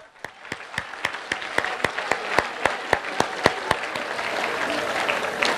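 A crowd at a government access channel event claps together in a steady, rhythmic beat, with sharp evenly spaced claps standing out over a broad wash of audience noise that swells toward the end.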